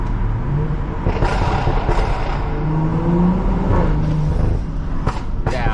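A BMW car engine with a Stage 2+ tune rumbles loudly and continuously, its pitch shifting as it revs and downshifts, with a few sharp pops and road noise mixed in, driving through city streets.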